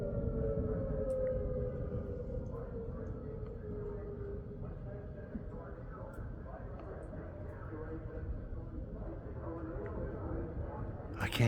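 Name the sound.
tornado warning civil defense siren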